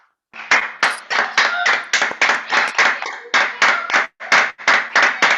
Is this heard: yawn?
no